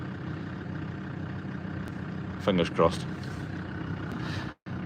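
A tractor without front weights runs steadily while rolling a rushy grass bog, a continuous low engine drone close by, with a short spoken remark partway through.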